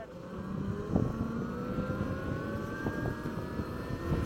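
A Revolt RV BlazeX electric motorcycle at full throttle gives a steadily rising electric motor whine over rushing wind and road noise, close and continuous.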